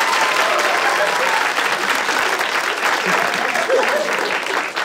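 A talk-show studio audience applauds, loud and continuous clapping with a murmur of crowd voices mixed in.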